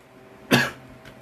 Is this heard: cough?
yes